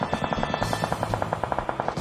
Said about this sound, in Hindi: ये लोग तो गोलियां चलानी रोक ही नहीं रहे।